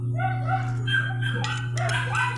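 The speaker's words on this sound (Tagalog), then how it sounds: "habang nagkakape yung mga aso ko, ayan, maingay" Several dogs barking and yipping in short overlapping bursts over a steady low mechanical hum.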